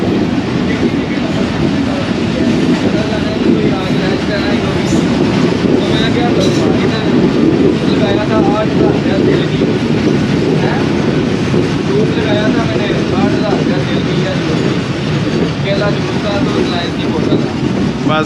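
Karachi Express passenger train running through flood-hit Sindh, a steady loud rumble and rattle of wheels and carriages throughout, with voices talking over it.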